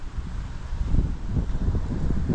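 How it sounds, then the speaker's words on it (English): Steady gusting wind buffets the microphone on the beach at Belmar, New Jersey, during a thunderstorm, with a low rumbling roar of heavy surf nearby; no voices. "It is windy and there's a lot of waves."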